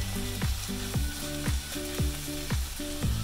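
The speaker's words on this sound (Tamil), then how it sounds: "இப்போ கீரை நல்லா வேகட்டும்." Ponnanganni greens cook in a pan with a steady sizzle, while a utensil scrapes and knocks against the pan in a regular rhythm about twice a second, close and clear.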